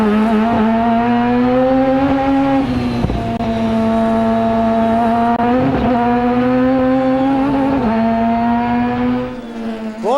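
A Star Mazda Series race car engine roars steadily at high revs from onboard during a race, pitch dipping briefly at gear shifts, loud and continuous before easing near the end.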